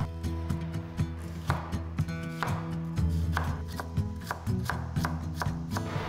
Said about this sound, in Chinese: 大概1/8个白洋葱切成细丁